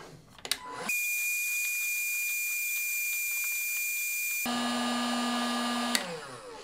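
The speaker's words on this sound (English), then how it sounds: "We're gonna use our heat gun to heat up the area where we've bonded the two pieces of the 3D print together" A heat gun blows a steady, loud hiss over a glued PLA 3D print joint bonded with Loctite, with a high whine and a brief click as it starts, then a change in tone partway through before it cuts off.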